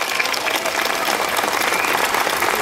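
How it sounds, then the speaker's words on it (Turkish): Audience at a Circassian culture festival welcome gathering in Uzunyayla bursts into steady, dense applause, loud and continuous throughout with no break. "çok teşekkür ederim kıymetli alkışlarınız için"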